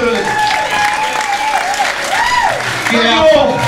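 Audience applause following a tribute performance of a song, a loud sustained clatter of clapping with a voice speaking over it throughout.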